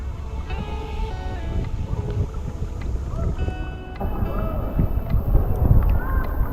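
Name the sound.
kayak paddling on water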